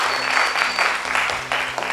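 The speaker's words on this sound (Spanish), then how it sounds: "un aplauso para Antonieta." A brief burst of audience clapping for a young singer at a kids' singing competition rehearsal, dense and lively with a few louder claps poking out, close and fairly loud, with a faint hum underneath.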